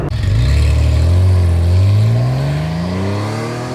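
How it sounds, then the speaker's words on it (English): A modified air-cooled Porsche 911 Carrera with a 3-litre engine revs loudly and close by, its pitch climbing steadily in one long sweep before easing slightly at the end. "Just classic air-cooled 911 done right."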